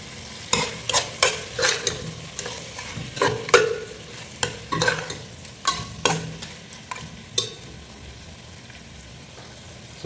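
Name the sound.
tomatoes frying and being stirred in a pan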